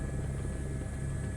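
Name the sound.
helicopter flying in video game Microsoft Flight Simulator 2024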